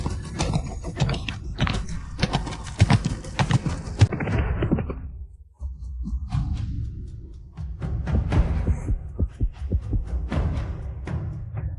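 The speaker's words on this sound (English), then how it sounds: "The horse has spooked." Hooves of a spooked horse clatter in busy, uneven bursts at close range, with thuds and loud commotion building and easing over several seconds.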